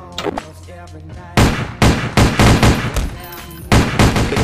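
Video game gunfire rattles in quick repeated bursts, loud and close, after a few faint early shots, with little talk over it.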